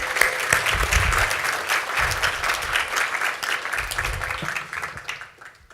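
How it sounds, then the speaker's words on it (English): Sustained, fairly loud applause from a keynote audience fills the room, holding steady for several seconds before fading out at the end. "So I'd like to start with a round of applause to these guys"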